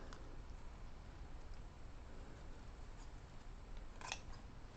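Scissors snip yellow ribbon for a grapevine bumble bee wreath, faint quiet cuts over low background noise, with a sharper snip near the end.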